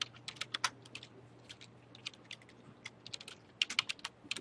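Quiet, quick bursts of computer keyboard typing as a Vim command is entered, irregular clusters of clicks with short pauses, close and alone.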